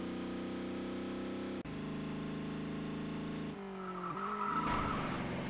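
Grinding, scraping noise from loose bodywork rubbing against a tire on a touring car in ToCA World Touring Cars, a rough hiss rising over a steady, loud engine drone and tire squeal toward the end.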